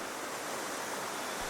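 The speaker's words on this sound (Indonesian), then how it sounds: "saya juga disuguhi pemandangan air terjun yang indah dan sejuk" Waterfall at a tourist site in Desa Tabanggeli, Indonesia, heard as a steady, dense rush of falling water that fills the whole clip at an even level, with no voices.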